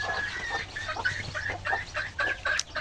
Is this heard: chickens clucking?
yes